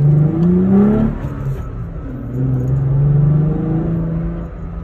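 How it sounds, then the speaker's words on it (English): Toyota Tacoma pickup engine fitted with a K&N cold air intake revs up twice, a deep rumbling roar rising and falling close by with no talk over it. "my favorite is the engine sound, or the way your engine is gonna sound after you are done with that installation."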